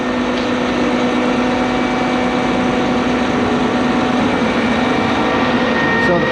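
A concrete pump truck's engine runs loud and steady, RPM raised by remote, a constant droning hum with a faint higher whine, close by and unbroken.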